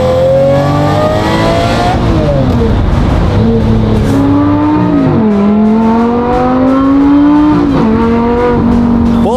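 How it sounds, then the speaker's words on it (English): A powerful Lamborghini Murcielago engine revs hard, pitch climbing and dropping through several loud, sustained throttle blips with a rough roaring edge. "Wind her up a little. Yes! The sweet symphony that is the Murcielago."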